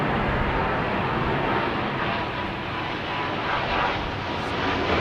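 Airbus Beluga XL aircraft arriving at Heathrow Airport, a broad continuous jet engine roar that stays loud and steady throughout, with no talk.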